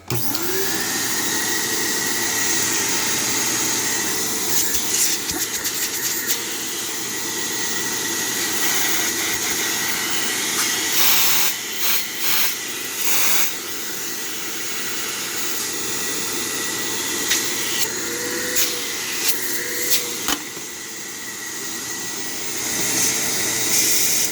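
A Eureka Mighty Mite vacuum cleaner switched on and running, a loud steady motor whine with a high airy hiss holding for the whole stretch, broken by a few brief knocks and bumps.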